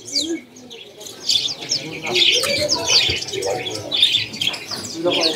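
Pelanduk semak, a small wild forest songbird offered for sale as an untrained bird, chirps and tweets in repeated bright bursts through the clip, fairly close, with other calls and low murmuring voices underneath.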